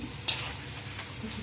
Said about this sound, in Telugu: చెక్కలు చేస్తున్నాను